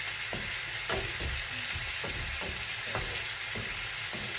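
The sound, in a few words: vegetables being stirred while cooking in a pan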